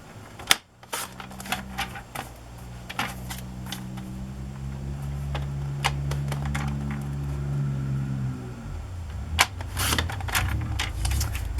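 A cardstock tag is trimmed with a series of sharp, close cutting clicks spread across the clip, set over a steady low humming drone.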